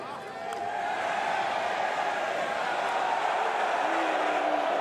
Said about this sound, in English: The crowd are getting involved.